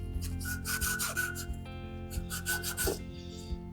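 Sandpaper rubs back and forth on a Harbor Freight carving chisel in close, raspy strokes, with pauses between passes and a faint ringing hum as the metal sings.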